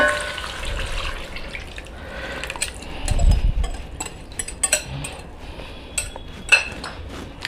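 Water is poured into curds and besan (gram flour), then the mixture is whisked in a bowl for a mutton curd curry, with sloshing and a run of quick metallic clinks and taps close by and no talk.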